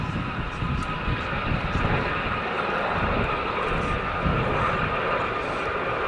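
Gazelle helicopters fly past at an air show, a steady distant engine and rotor drone with some wind noise, under a commentator's talk.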